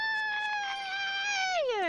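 A drawn-out tonal cat meow from the video game Tales of Berseria, clear and fairly close, holding steady before sliding down in pitch at the end.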